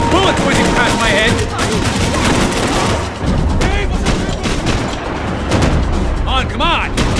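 Loud bursts of gunfire rattle throughout a chaotic firefight in the video game Max Payne 3, with bullets whizzing past and shouted voices over the shooting.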